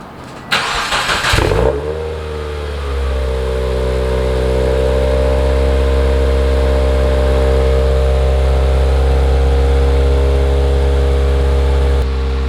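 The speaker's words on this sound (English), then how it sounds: "let's get a first start with the new exhaust" A Subaru WRX fitted with an Invidia Q300 exhaust and GrimmSpeed J-pipe cold starts with a brief cranking whir and a sharp catch, then settles into a loud, steady, rumbling high idle recorded close by.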